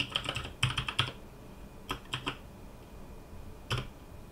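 Keystrokes on a computer keyboard come in three short bursts of quick clicks separated by pauses, close and moderately loud, as a short command is typed at a terminal.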